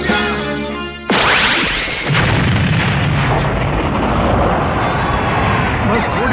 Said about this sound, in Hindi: बस थोड़ी सी आतिशबाजी है बेटा